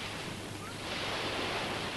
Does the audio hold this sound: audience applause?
no